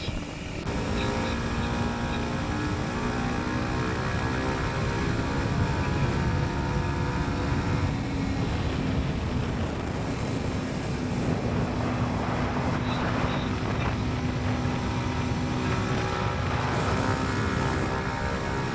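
A Kawasaki Ninja 125 motorcycle being ridden on open roads, its engine droning steadily with shifting tonal whine as revs rise and fall, heavily buffeted by wind noise, continuous and close, with no talk.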